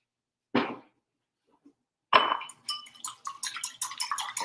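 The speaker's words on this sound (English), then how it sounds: "Okay, I'm gonna crack my egg. And I'm gonna make an egg wash." An egg taps sharply against a bowl once, then after a pause a rapid series of clinking whisk strokes beats an egg wash in the bowl, close and fairly loud with no talking.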